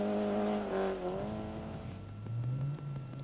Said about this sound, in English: It's misfiring, but we've started.